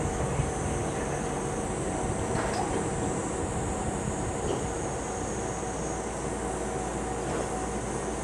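A train rumbles steadily past on tracks at a station in Japan, a continuous loud roar with faint metallic squeals rising now and then.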